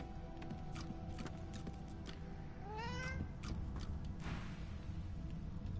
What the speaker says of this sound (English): Is it weird that I want to pet the skeleton cat?